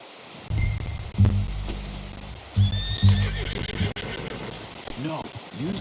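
Horse whinnies and clopping hooves from Red Dead Redemption 2, with several neigh bursts over steady hoofbeats and low rumbling, followed by a voice speaking.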